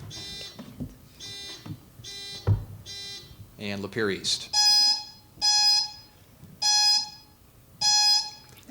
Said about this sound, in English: let's test the buzzers here before we get going